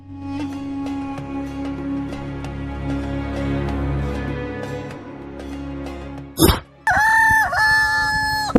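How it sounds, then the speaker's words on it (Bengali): In a Bengali cartoon, chickens cluck steadily in a harmonic chorus, then a brief squawk and a loud rooster crow near the end. "মুরগিগুলো এভাবে ডাকছে কেন"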